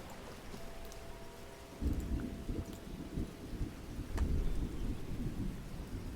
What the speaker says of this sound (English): We'll turn off the rain and the thunder.